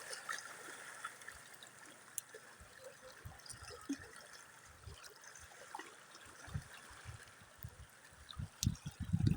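Water flows steadily in the open, a continuous rushing wash with occasional low thumps and surges, fairly faint and without voices.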